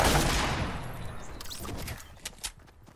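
Gunfire bursts in the Fortnite video game, a dense rapid volley at the start fading over the following seconds, with a couple of sharp isolated shots near the end.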